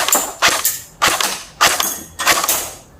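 A CYMA M14 electric airsoft rifle fires in four quick bursts, each a sharp clattering volley of shots, close and loud with brief pauses between them.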